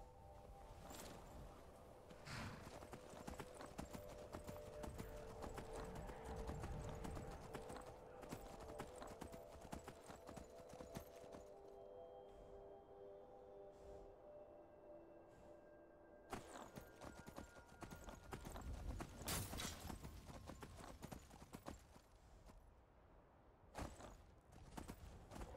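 Horse hoofbeats clip-clop steadily in Skyrim as a mount is ridden, with a brief whinny. Game music and ambient effects play throughout, and the galloping swells louder near the end.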